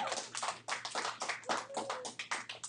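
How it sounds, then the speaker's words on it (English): A classroom breaks into a brief round of applause for a student, with uneven, overlapping hand claps at moderate loudness and no steady rhythm. "Everybody give Olivia a round of applause."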